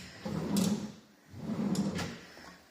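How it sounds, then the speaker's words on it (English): A soft-closing cutlery drawer in a kitchen slides open and then shut, two smooth rumbling glides about a second apart, close by and fairly quiet, with no talking. "Cutlery drawer here, so plenty of space."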